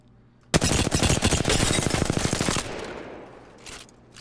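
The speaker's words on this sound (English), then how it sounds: "if I'm strafing while non-ADS while I'm hip firing, check this out" A loud, rapid automatic burst of hip-fired gunfire in Apex Legends starts abruptly and rattles for about two seconds, then fades into softer distant shots and game ambience.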